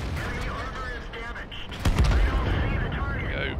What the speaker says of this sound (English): There we go, we planted two shots into him